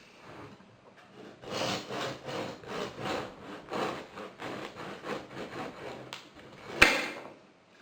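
Knife sawing through a crusty homemade loaf made from leftovers, a steady run of about a dozen rhythmic rasping strokes, close and clear, ending with a sharp knock as the blade hits the board.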